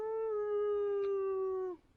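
A person imitates a dog's howl, one long sustained tonal wail with steady harmonics that holds for nearly two seconds, then drops off abruptly.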